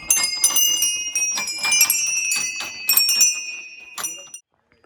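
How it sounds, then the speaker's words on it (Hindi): Hanging bells at the Sem Mukhem Nagraja temple are struck in a rapid flurry of bright metallic clangs that overlap and ring on, then stop abruptly. "यहाँ पे देख सकते हो घंटियाँ लग रखी है"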